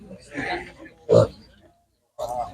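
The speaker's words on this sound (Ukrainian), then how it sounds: "Є свинки." Short grunting oinks from pigs at an animal market, in a few bursts with a pause between, close by, mixed with some voice-like sounds.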